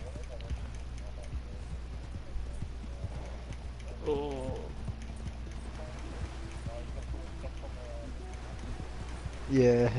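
Horse hooves clip-clop in Red Dead Online, a soft steady patter under intermittent talk and game noise.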